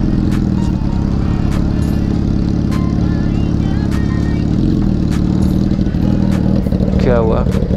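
A motorcycle rides off-road over a badly broken road, its engine chugging and revving close by with clattering jolts and bumps as a rider talks over the noise throughout.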